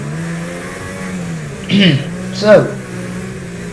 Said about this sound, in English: the Audi engine has no problem just getting to him.